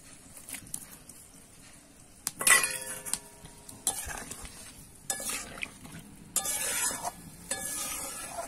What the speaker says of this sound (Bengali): ভেজে রাখা মাছগুলো দিয়ে দিলাম এবার